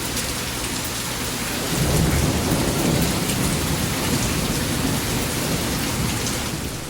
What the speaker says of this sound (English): we got a full-on gully washer rain and hailstorm